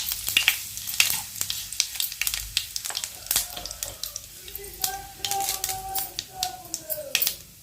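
A tempering of one dry red chili, two sprigs of curry leaves and crushed small onions crackles in hot oil for a drumstick dal rasam. Sharp pops and spits burst irregularly over a low sizzle, close and fairly loud, with a brief faint tone partway through.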